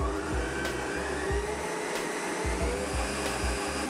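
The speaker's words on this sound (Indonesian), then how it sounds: "Mixer kembali dengan kecepatan tinggi hingga mengembang dan mengental." An electric mixer beats steamed sponge cake batter at high speed, a steady, loud motor whir with a rhythmic pulsing as the beaters work through the thickening mixture, and no voices.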